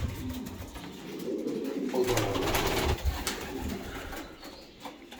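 Pigeons coo softly inside a coop, several low rounded calls overlapping close by, with a brief flutter of wings and faint background rustle.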